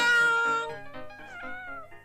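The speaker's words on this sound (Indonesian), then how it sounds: "Om, kucing saya memang nakal." A house cat meows close by: one long, drawn-out cry, then a few shorter wavering meows, with no talking.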